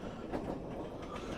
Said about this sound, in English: I thought you'd missed the train, Watson.